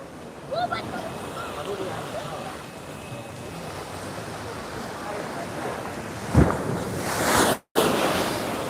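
Ocean surf rolls and breaks along a Hawaiian shore in a steady broadband wash with wind buffeting the microphone, one heavier crash near the end and a brief dropout just after.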